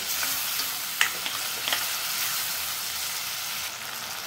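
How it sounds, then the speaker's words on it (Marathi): Tomato paste sautés in hot oil with browned onion for a soya and pea curry, producing a steady, close frying sizzle with a few light stirring clicks scattered through. "आता ह्यामध्ये मी टोमॅटोची पेस्ट घालते आणि ती देखील तेल सुटेपर्यंत परतून घेते।"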